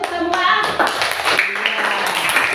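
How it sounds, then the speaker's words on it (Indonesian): A primary classroom of students claps together at the teacher's call, a short burst of brisk, uneven hand clapping close by, with children's voices and talk mixed in. "Tepuk tangan untuk semua."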